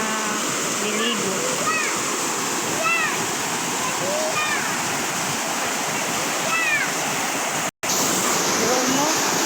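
People bathe and splash in natural spring water at a resort in Lagayan, Abra, their splashes scattered over a constant rush of falling water, with voices calling faintly throughout.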